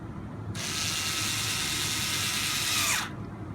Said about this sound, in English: we can go ahead and throw some screws in there to make sure that the knuckles don't come apart